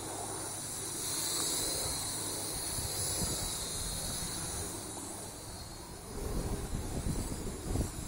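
A Helicute Wave Razor quadcopter drone flies outdoors in wind, its rotors giving a faint high steady whine over heavy wind rumble and microphone buffeting that grows stronger toward the end.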